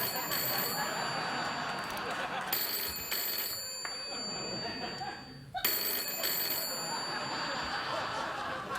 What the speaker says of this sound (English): I don't want that phone to ring at all tonight.